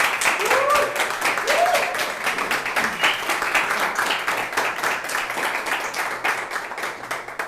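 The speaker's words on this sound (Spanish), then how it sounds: "Otro aplauso más si podemos dar." Audience applause at the close of a talk on free trade zones in Chile, a dense steady wash of many hands clapping that carries through the whole stretch and fades slightly toward the end.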